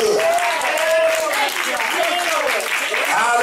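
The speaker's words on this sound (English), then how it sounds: "Come on, somebody clap your hands real good." A church congregation clapping hands during worship, dense continuous applause close by with voices speaking over it.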